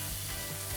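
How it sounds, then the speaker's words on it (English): Hickory-smoked tofu fries in a pan at a tofu factory, giving a short, soft, steady sizzle with no voices. "Oh, hear that sizzle."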